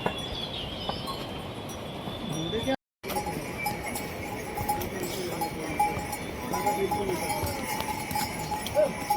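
Horse hooves clip-clop steadily along a mountain trail to Kedarnath amid outdoor ambience, with a faint bell and distant voices now and then.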